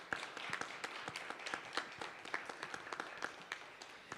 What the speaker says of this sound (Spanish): para quien les pido un aplauso, por favor.